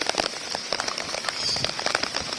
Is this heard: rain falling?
yes